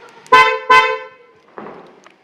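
Kia Seltos HTE 2020 horn chirps on lock/unlock: two sharp, close honks in quick succession, then a softer third blip, loud and near with no talking.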